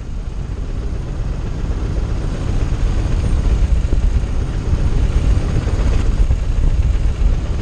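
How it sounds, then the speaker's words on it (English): Vintage aircraft G-AAOK accelerates along the runway for its takeoff roll, a steady, loud, broadband engine and propeller roar that holds strong and slightly swells through the whole stretch, with no talk. "Oscar Kilo will accelerate from 0 to 60 takeoff speed in just over 7 seconds."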